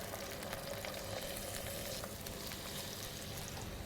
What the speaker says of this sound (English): just flip the fish over onto the other side, give it a couple of minutes. I don't want to overcook it, I just want it to be lightly seared